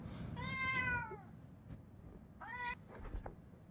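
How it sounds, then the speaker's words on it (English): A cat meows loudly twice, one long drawn-out cry followed by a shorter call, with a faint roomy background between them. "I paused the video until my cat had enough of meowing"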